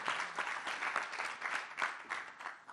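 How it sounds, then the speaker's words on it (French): Audience at a French conference applauds panel members being introduced, a brief burst of many clapping hands, fairly close and continuous. "Merci de les applaudir."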